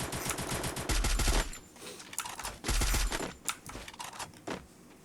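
Gunfire from a SCAR rifle in the mobile battle-royale game Free Fire: rapid automatic bursts, two heavy sustained strings of shots separated by scattered single cracks, loud and close.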